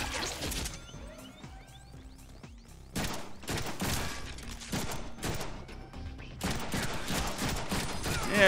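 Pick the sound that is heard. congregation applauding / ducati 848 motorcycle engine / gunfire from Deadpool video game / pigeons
gunfire from Deadpool video game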